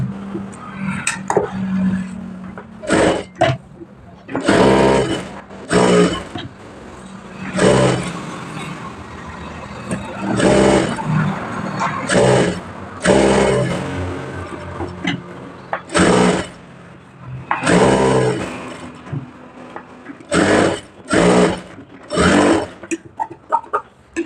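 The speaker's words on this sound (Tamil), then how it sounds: "அப்படியே நம்ம சுற்றி லைனிங்லேயே நம்ம ஒரு ஸ்டிச் போட்டுகிட்டே வந்துடலாம்." A sewing machine stitching around the lining of an elbow sleeve, running in repeated loud bursts of steady whirring broken by short pauses, close by and with no talking.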